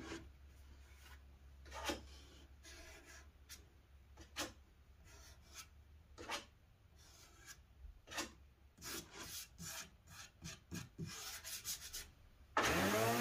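Plastic straw scraping wet glue squeeze-out from the inside corners of a wooden pipe clamp rack built from recycled materials, giving soft, intermittent rubbing and rasping strokes at close range, alone without talk.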